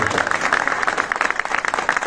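Audience applause at the inauguration ceremony of the Shaheed Bhagat Singh bus stand, a steady dense wash of clapping from a crowd, moderately loud, with some voices mixed in.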